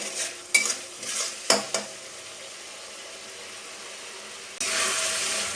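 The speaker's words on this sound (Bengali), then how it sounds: "মশলাটা কষানো চলছে" Spice masala of turmeric, salt, cumin and chilli powder frying in a pan, a series of loud scraping stirs followed by a quiet stretch, then a steady sizzle rising near the end, with no talking.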